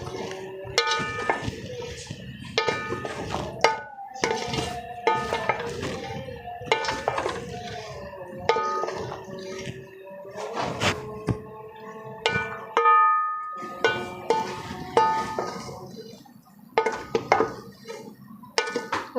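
Tinday (apple gourd) are fried and stirred in a pan, with a metal spoon scraping and clanking against it in repeated uneven bursts, close and fairly loud, over a faint frying hiss.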